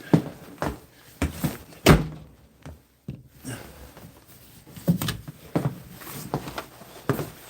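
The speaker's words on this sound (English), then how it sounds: "It's fucking -50 out and I can't work the fucking door." A jammed door being wrestled with at minus fifty degrees: irregular heavy thunks, bangs and rattles, some loud slams between quieter scraping fumbles, close by and with no speech.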